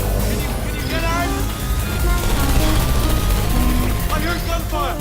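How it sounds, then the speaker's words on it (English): Turret gunfire in the video game Portal 2, rattling bursts buried in a dense, loud mix of game effects and music, continuous across the whole stretch with no clean gaps. "I heard gunfire."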